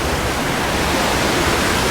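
Roiling stream water on a hiking trail toward Comet Falls, a loud, dense, unbroken rush of turbulent water close by, steady throughout with no other sounds.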